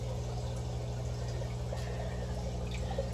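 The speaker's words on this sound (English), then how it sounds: "There we go, and we are filling the tank." Water from a Python hose pours into an aquarium with a soft, continuous trickling and splashing, faint under a steady low hum.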